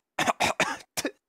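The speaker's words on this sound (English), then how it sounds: "She immediately coughed it back up." A woman coughs in four sharp bursts after choking on a mouthful of sugar, three quick coughs close together and then one more after a short pause, loud and close with no talk.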